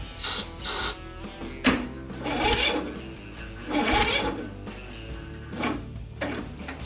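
A Craftsman ZTS7500 zero-turn mower engine cranks without catching, heard as several separate bursts of mechanical churning of varying length, close and fairly loud, with short pauses between attempts and no talking.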